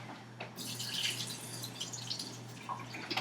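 Liquid drained from a can of chicken trickles and splashes in a thin, steady stream into a sink for about three seconds, quiet and close, with a faint electrical hum underneath and no talking.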